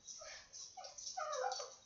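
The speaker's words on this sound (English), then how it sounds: "Collie Dog's barking." A collie gives a few faint, high, yipping barks and whines, indoors and at a distance.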